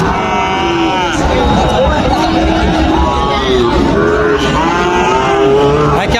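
Cattle and calves low and moo repeatedly at a busy Bangladeshi livestock market, the calls near and overlapping amid steady crowd chatter and background voices.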